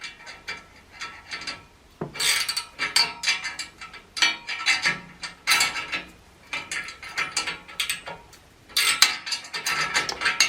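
Spanners are fitted and turned in close, quick metallic bursts of ratcheting clicks and clanks, repeated in short spells with brief pauses between.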